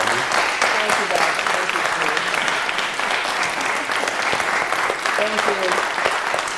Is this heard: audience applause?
yes